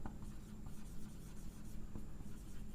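Chalk or marker writing on a board in a classroom, a continuous quiet scratching and rubbing with no talking.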